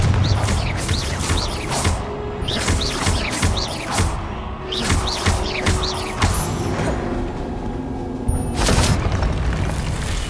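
Confringo blasting spell explosions in a wizarding video game, a series of deep booming blasts with crackling debris and bursts of sparks, repeating every second or so over a busy rumbling game background.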